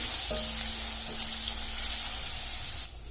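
Crushed garlic and ginger sizzle in a hot pan while being cooked down, a steady close hiss running alone for a few seconds before cutting off near the end.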